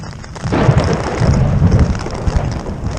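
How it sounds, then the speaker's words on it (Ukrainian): A thunderstorm heard from inside a tent on a solo cycling trip through the Balkans: steady loud rain drumming with gusting wind and low rumbling, close and continuous. "Не знаю, чи ще хтось показує, як переживає один турист в наметі. такий грозовий фронт."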